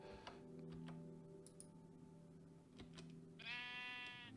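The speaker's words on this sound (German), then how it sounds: "Zack, und jetzt bin ich ein Schaf." A single sheep bleat from the video game Minecraft, a bright wavering cry near the end, rising over steady game background music with faint ticking.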